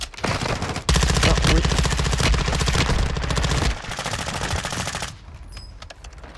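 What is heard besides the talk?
gunfire in a video game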